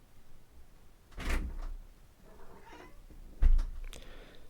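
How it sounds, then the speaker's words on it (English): A cat meows at a door indoors, two brief, fairly faint calls about two seconds apart against quiet room noise, with no one talking. "The cat has been meowing at the door."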